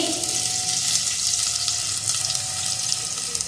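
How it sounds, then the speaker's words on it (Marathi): Garlic, ginger and chili sizzle in hot oil for a Chinese-style veg manchurian and hakka noodles, a steady dense hiss that holds at an even level throughout with no talking. "तेल गरम झालंय आपण याच्यामध्ये घालूया लसूण अद्रक"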